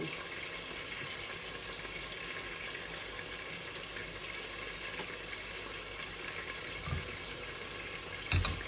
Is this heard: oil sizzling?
yes